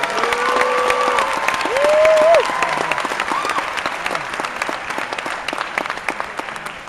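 Audience applause and some cheering at the Riddick world premiere, a dense, loud crowd clapping that swells briefly then holds steady, with a few voices rising over it.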